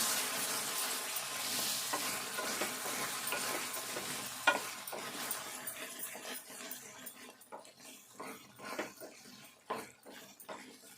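A spoon scrapes and stirs tomato egg curry in a pan over soft sizzling, the sizzle fading as irregular stirring clinks and taps continue.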